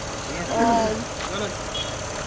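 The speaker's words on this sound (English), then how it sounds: "you can see the engine is running very steady now" Steady, even idle of a Peugeot 407 Coupé V6 engine after overheating and misfire repairs, a low continuous hum with someone speaking over it up close.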